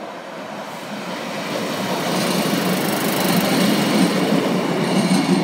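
Class 156 diesel unit 156406, bound for Crewe via Stoke-on-Trent, moves past a level crossing at Stallington Road in Staffordshire with a close, steady rumble and rolling rail noise that grows louder throughout.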